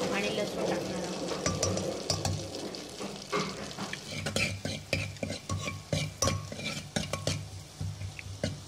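Green chili, ginger and garlic roasting in butter for a mixed vegetable soup: a soft crackling sizzle with frequent clinks and scrapes of a spoon against the pan, fairly close.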